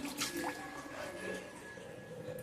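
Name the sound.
pouring water on potted garden plants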